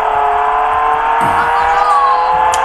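A car drives in the Roblox video game, a steady, loud engine drone throughout with a brief shift partway, no talk over it.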